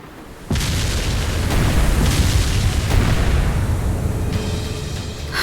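A heavy boom of ship cannon fire in the game Ys X Nordics hits suddenly, and a loud, rumbling roar of battle noise follows and holds steady without any voices.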